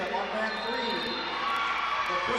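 Crowd noise fills the U.S. Cellular Coliseum during a 2010 team state wrestling championship, with a steady roar of cheers and shouts beneath a commentator talking over it.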